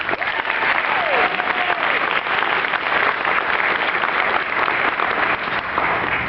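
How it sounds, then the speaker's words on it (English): A graduation audience for an ITT Tech fall 2012 class in Kennesaw, Georgia claps in a dense, sustained wash of applause that fills the hall, loud and steady throughout, with a few faint cheers. "Give yourselves a round of applause."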